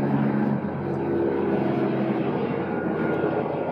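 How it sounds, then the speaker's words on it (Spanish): A helicopter flies at very low altitude directly over a home, its steady, loud engine and rotor roar filling the whole stretch without pause or voices. "pasando un helicóptero en este momento, exactamente arriba de donde vivo y a muy baja altura"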